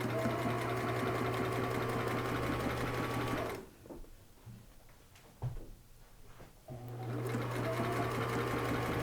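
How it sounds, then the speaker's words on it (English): A sewing machine stitches along the edge of turban material in steady, loud runs, drops to near quiet mid-clip with a few clicks and brief bursts, then resumes sewing. "we don't stretch this one, we just sew"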